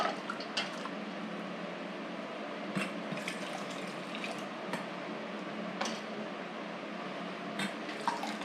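A canning ladle holding about a cup is filled with red cabbage dye liquid, giving a soft, steady pour with small splashes and a few sharp clinks, close and fairly quiet with no talking.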